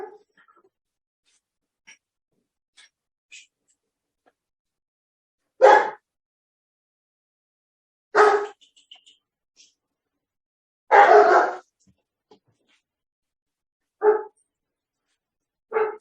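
Dogs bark in several short bursts spaced a couple of seconds apart, moderately near and alone without talk, with faint softer whines between.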